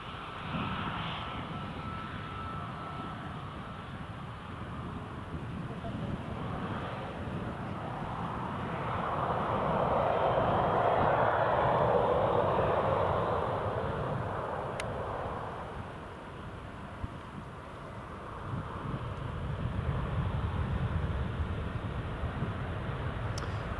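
A Jet2 airliner arriving from Malta on approach to runway 07 at Newcastle International Airport, heard as a steady, moderately distant roar that swells to a peak mid-clip and then eases, with no talk over it.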